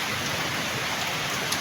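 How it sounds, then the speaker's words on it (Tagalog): Heavy rain pouring down at Doña Remedios, Philippines, in a dense, steady hiss, constant and loud with no voices. "ang lakas-lakas ng pagbuhos ng ulan dito sa may Doña Remedios"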